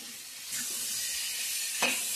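Hot water is poured into a pan of frying taro and potato curry with spices, giving a steady loud sizzle and steam hiss with a sharper burst partway through, no voices.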